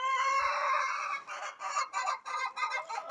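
A flock of about 50 free-range chickens clucking and squawking nearby, overlapping calls rising and falling in short bursts.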